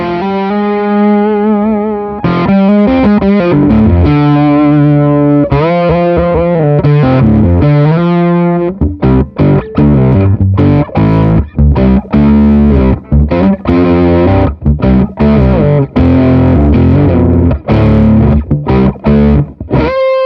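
Electric guitar played through a distortion pedal while its tone control is swept, sustained chords first, then a run of sharp, choppy strummed stabs, loud and close with no talking.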